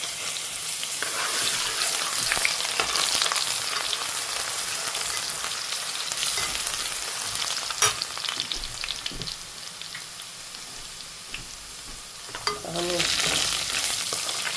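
Fenugreek seeds fry in hot oil for a Khaga fish dish, giving a steady crackling sizzle up close, with a few louder pops and some stirring scrapes.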